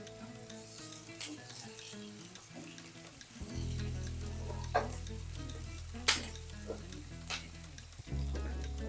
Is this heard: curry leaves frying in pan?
yes